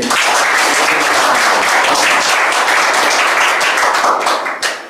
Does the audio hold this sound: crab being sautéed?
no